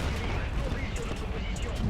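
Heavy booming artillery fire and gunfire from the video game War Thunder, including a 155 mm Lorraine 155 Mle.50 self-propelled gun, rumble continuously, loud and dense, with no clear pauses between blasts.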